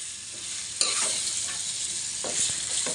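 Mango chicken curry is stirred in a hot pan with a sharp scrape at the start, then soft sizzling and occasional clinks from the spoon, with no talk.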